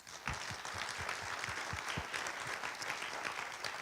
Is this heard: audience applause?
yes